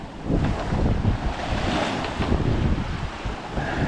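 Sea waves and wind heard from a boat out at sea on a cold, bumpy night, a steady loud roar of wind buffeting and rushing water with no talk.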